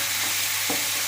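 Tomatoes with turmeric sautéing in a pan for Chettinad chicken curry, producing a continuous close, loud sizzle and hiss with a brief stir sound partway through.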